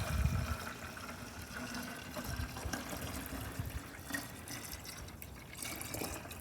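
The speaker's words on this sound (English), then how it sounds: "we're gonna put some de-icer washer fluid" De-icer windshield washer fluid poured into a car's washer reservoir, a steady liquid trickle and gush with a louder splash at the start, close up and continuous, no talking.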